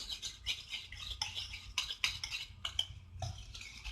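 Gram flour batter being mixed in a bowl with a spoon, giving close, quiet, irregular scraping and clinking strokes of utensil against the bowl, with no talk.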